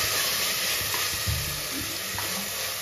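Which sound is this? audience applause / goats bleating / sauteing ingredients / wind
sauteing ingredients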